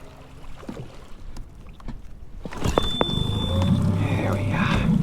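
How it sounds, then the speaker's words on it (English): A boat's trolling motor being pulled up: a few hollow clunks and knocks on the hull, then an engine hum and water noise rising and holding steady, with some faint voices. "Let's pull up our trolling motor and we're gonna make our way back into the launch."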